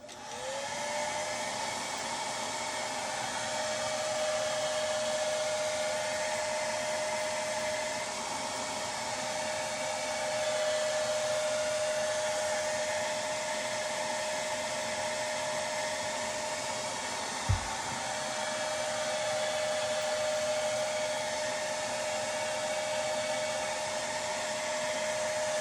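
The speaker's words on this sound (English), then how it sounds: "That's why I'm using the blow dryer on low too." A hair dryer blows steadily on a low setting over a drywall repair, a constant airy whoosh with a faint whine that holds for the whole stretch.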